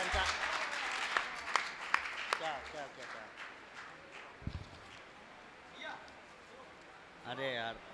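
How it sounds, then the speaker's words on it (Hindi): Audience applause at a kavi sammelan poetry gathering, clapping that starts strong with sharp individual claps and fades within a few seconds, followed by voices talking. "एक बार पुनः जोरदार तालियों से आशीर्वाद दीजिए।"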